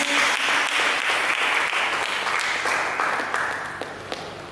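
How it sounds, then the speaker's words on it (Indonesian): A church congregation claps for Jesus Christ during a worship service, dense sustained applause close and loud that slowly tapers toward the end, with a few sharper claps standing out. "Mari kita berikan tepuk tangan bagi Yesus Kristus"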